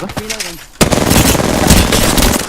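Automatic gunfire rattles in the video game Apex Legends, a loud, rapid, continuous burst that starts after a brief moment of a voice talking.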